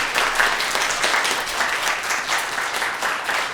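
An audience at a dance studio's Christmas concert applauds a dance teacher with full, steady clapping that fills the whole stretch without a break.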